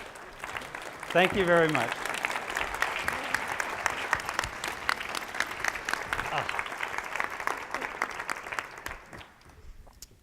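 An audience at a symposium session gives sustained, dense applause that swells quickly and holds for several seconds before tapering off, with a voice speaking briefly over the start.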